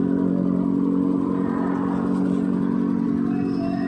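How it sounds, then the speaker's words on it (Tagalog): A Honda Click 125 scooter engine idles steadily at close range after repair, with a buzzing, slightly rattling hum and no voices. "Umandar na yung Honda Click."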